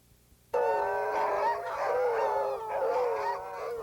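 Sled dogs at the John Beargrease sled dog race break into a sudden chorus of overlapping howls and yips. The sound is loud and close and carries on for several seconds with no talking.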